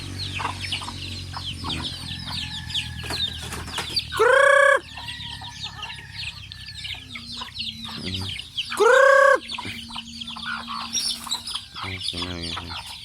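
Pet chickens cluck steadily in a yard, close and busy, with two loud rooster crows breaking through and a few faint background sounds.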